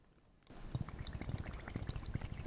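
An empty bottle pushed into water in a classroom demonstration, with air escaping as a continuous run of quick gurgling bubbles and glugs starting abruptly and staying close and moderately loud.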